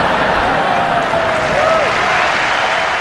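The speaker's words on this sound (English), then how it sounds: "I think you all deserve a round of applause." An audience applauds continuously at a farewell tribute to a Ghanaian highlife musician, a dense, even wash of clapping held at steady loudness for a few seconds.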